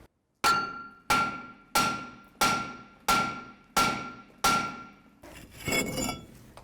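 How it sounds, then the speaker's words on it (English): Seven sharp, loud metallic hammer strikes on a seized brake rotor on the front hub of a 1984-2001 Jeep Cherokee ring out at a steady pace, each decaying quickly, followed by a brief rougher scraping clatter. "It's kind of frozen on there before I hit it with a hammer."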